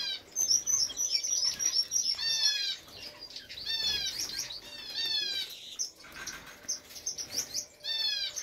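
Bright, repeated chirps and tweets from small Gouldian finches, arriving in quick bursts with short pauses between, fairly close and with no talking.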